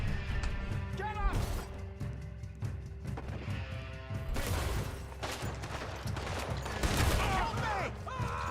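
Rapid gunfire rattles out in the video game Red Dead Redemption 2, bursts of shots with game sound and music behind, while a voice talks over the action.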